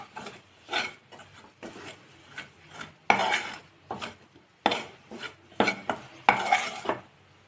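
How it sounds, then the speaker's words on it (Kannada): Flour roasted over a medium flame while being stirred in a pan, heard as repeated scraping and clinking strokes of a spoon against metal in an uneven rhythm, close and moderately loud, with no voices. "ಚೆನ್ನಾಗಿ ಹಿಟ್ಟು ಬೇಯೋವರೆಗೂ ಹುರಿಬೇಕ್ರಿ ಇದನ್ನು"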